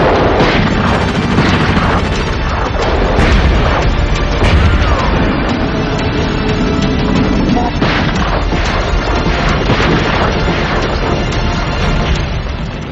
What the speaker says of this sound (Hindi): सेना उनके राजभवन पर बम बरसाना शुरू कर देती है